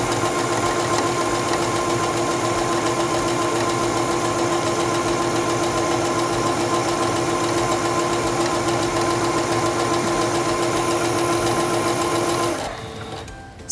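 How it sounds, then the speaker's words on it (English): A SINGER Stylist 7258 sewing machine stitching fabric, a loud, steady mechanical whir and rapid needle rattle running unbroken for about twelve seconds before it stops abruptly. "Put your fabric underneath the presser foot, lower the presser foot, and begin sewing."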